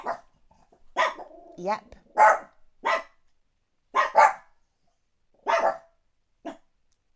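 Chihuahua and Chihuahua-dachshund cross dogs barking indoors in about eight short, sharp bursts with uneven gaps between them, while a person speaks a brief word among the barks.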